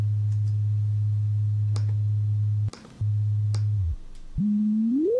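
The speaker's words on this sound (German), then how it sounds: "Das ist ein Sinuston. Das ist nur eine einzelne Frequenz ohne Obertöne." A steady, pure low sine tone with no overtones holds, cuts out briefly, returns, stops, then comes back sweeping upward in pitch, with a few faint clicks and no voices.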